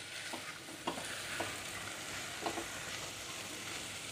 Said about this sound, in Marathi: मी मूग चांगले परतून घेतलेले आहे वाटणासोबत